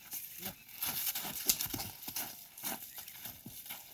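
Horse hooves clip-clop in a quick, uneven rhythm close by, with faint voices and outdoor noise mixed in.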